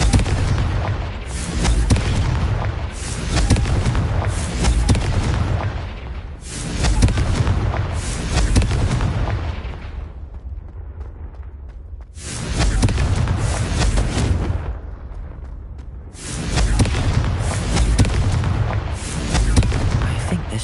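Confringo blasting spell from the Hogwarts video game smashing vases: loud booming blasts in repeated bursts with brief quieter gaps, dense and close, with no talking over them.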